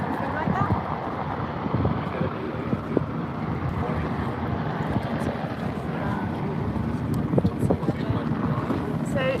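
Wind buffeting a RIB boat at sea, steady rushing roar across the microphone with choppy water noise underneath, close and continuous, while a person talks over it.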